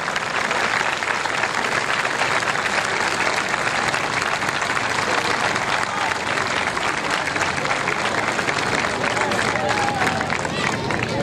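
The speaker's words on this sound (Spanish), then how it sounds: "para cada uno de ellos quiero ese enorme aplauso a estos notables" A large crowd applauds and cheers at the opening of a carnival, a continuous, loud wash of clapping and crowd noise from the stands that holds steady throughout.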